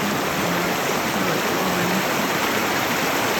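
Muddy creek water flows steadily in a continuous broadband rush, close and fairly loud, with no voices over it.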